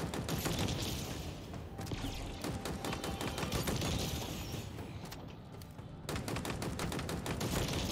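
Commando rifle fire in Halo Infinite: sustained rapid automatic bursts run nearly nonstop, close and dense, with short lulls around the middle and near six seconds before firing resumes.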